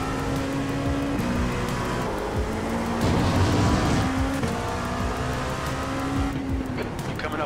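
Simulated LMP2 prototype race car engine from iRacing at Le Mans, a steady loud engine drone with gear shifts and rising revs as cars pass close by, with a voice talking over it.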